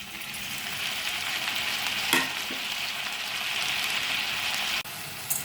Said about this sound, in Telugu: తర్వాత కూరగాయ ముక్కలు వేసి వేగించుకోవాలి కూరగాయ ముక్కలు వేగాక టమాటా కూడా వేసుకోవాలి